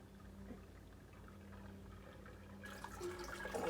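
Sweet wort draining from a lifted brew-in-a-bag grain bag into a one-gallon brew pot, a soft steady trickle that swells into louder pouring and splashing near the end.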